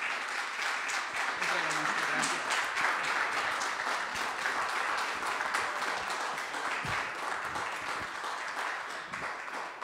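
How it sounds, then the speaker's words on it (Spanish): An audience at a museum talk in Monterrey, Nuevo León, gives steady, dense applause that holds for about ten seconds at moderate distance and thins slightly near the end. "les pido un fuerte aplauso"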